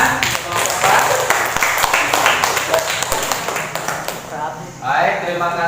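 Students in a classroom clap briefly after a presentation, an uneven patter of hands, while voices talk over it near the end.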